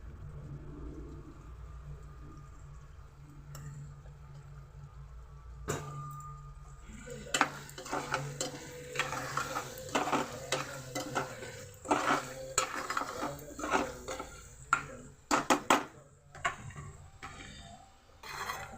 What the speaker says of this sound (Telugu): ఇంకో ఫ్రై అవుతుంది కొంచెం మసాలా గరం మసాలా వేసుకుందాం